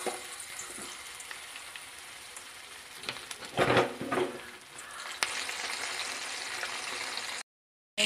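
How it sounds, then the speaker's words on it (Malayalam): Crab deep frying in hot oil gives a steady, close sizzling hiss that swells into a louder bubbling burst midway, then settles before cutting off abruptly near the end. "ഒന്ന് ഡീപ്പായിട്ട് ഫ്രൈ ചെയ്യുന്നതായിരിക്കും നല്ലത്. ഓയിൽ നന്നായിട്ട് ചൂടായിട്ടുണ്ട്."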